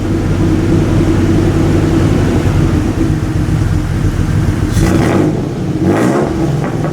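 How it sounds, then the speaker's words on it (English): A Toyota pickup swapped to a 3.4 engine idles low through a custom exhaust, a loud steady rumble with a deep throbbing pulse, joined by a couple of brief higher bursts near the end. "So you can hear it here. It's definitely idling quite low. It's probably like 500 RPM."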